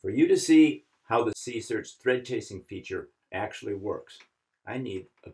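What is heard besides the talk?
None of the usual background noises is heard.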